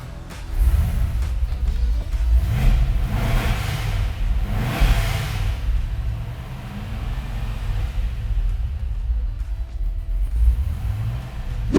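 Supercharged LSA V8 in a 1971 Chevelle restomod fires up and revs, a loud, deep, steady rumble with several swelling throttle blips before settling into a rough, lumpy idle.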